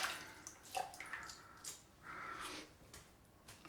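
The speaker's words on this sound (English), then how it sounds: "Squeeze out the brush." Water squeezed out of a large shaving brush during a head shave: faint wet squelches and trickling drips in several soft bursts, close by, with no talking.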